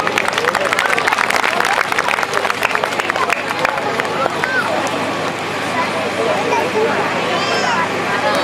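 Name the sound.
audience applause at school annual function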